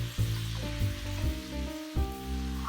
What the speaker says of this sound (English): we're just going to let that simmer for a minute